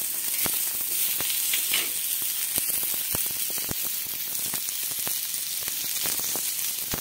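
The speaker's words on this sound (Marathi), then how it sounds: "थोडासा कांदा परतून झाल्याच्या नंतर आपण लगेच वन बाय वन मसाला यामध्येच घालून घ्यायचा आहे तव्यावरतीच" Onion and spices frying on a tawa, a steady close sizzle with sharp intermittent scraping taps of a stirring spatula, no talk.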